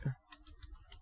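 A computer keyboard is typed on in a few quiet, close clicks, spaced irregularly across a second, after a soft thump at the start.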